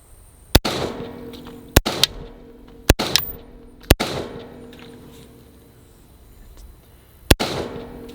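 Unsuppressed rifle firing 55 grain rounds outdoors, six sharp loud cracks spaced irregularly, each with a short echoing tail, with no talk.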